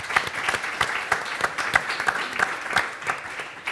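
Audience applause at a panel discussion on speeding up the transition to renewable energy: a room of people clapping at a steady, even rhythm, moderately close, with no talking over it.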